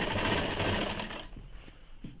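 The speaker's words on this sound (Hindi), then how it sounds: "यहाँ तक पहले तो 1/2 इंच पे सिलाई कर लेंगे" A sewing machine stitches a seam on ladies' pants with a steady, loud mechanical whirr that cuts off abruptly partway through, leaving faint clicks and handling noise.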